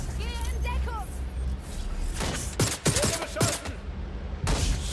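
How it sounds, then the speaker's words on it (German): Enemy gunfire in the video game Watch Dogs: Legion: a quick cluster of sharp, loud shots crackles through the middle, set against game ambience with voices. "Feindbeschuss."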